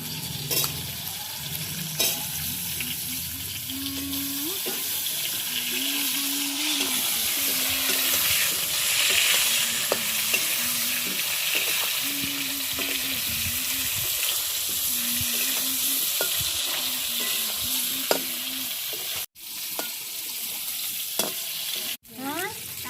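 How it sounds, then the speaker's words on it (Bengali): Eggplant slices fry in hot oil in a wok, a steady close sizzle and hiss with occasional stirring scrapes, while a voice hums or talks softly in the background. "একই কড়াইতে ভেজে নেবো।"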